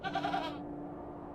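Goat bleating in the Victorian-era video game The Excavation of Hob's Barrow, one short wavering bleat that cuts off quickly into a low steady hum.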